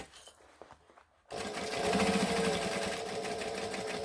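A sewing machine runs steadily along a thick bag seam, a close, continuous mechanical whir starting after a short quiet pause filled with faint handling noises.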